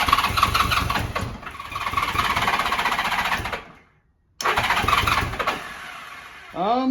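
A 40-year-old Honda GL1100 motorcycle engine, a little cold, cranks loudly and repeatedly with a harsh rapid chatter, stops for a short pause, then cranks again, ending with a rising whine.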